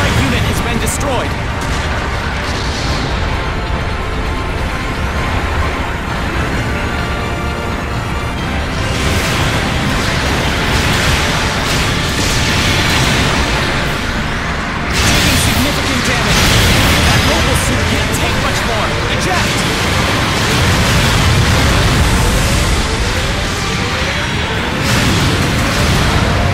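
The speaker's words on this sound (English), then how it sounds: "Long-range supporting fire incoming!" Long-range supporting artillery in Gundam Battle Operation 2 booms repeatedly in loud bursts amid constant battle noise, with voices talking over it.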